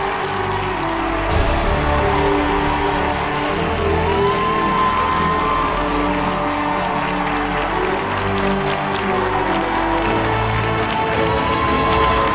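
Sustained applause and cheering from a large audience at the Mr India 2025 grand finale pageant, loud and continuous with whoops rising over a steady clapping wash and music underneath.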